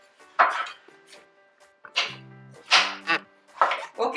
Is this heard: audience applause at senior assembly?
no